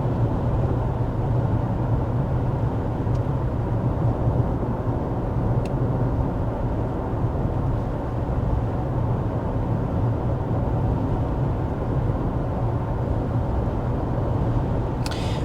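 Steady, even road and tire rumble fills the cabin of a 2024 Mercedes GLC 300 cruising at 55 mph, a constant low drone with no pauses or talking.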